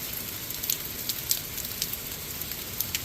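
Steady September rain pours outdoors, a dense even hiss of drops on surfaces with scattered sharper patters and drips standing out, heard alone at a moderate distance with no voices.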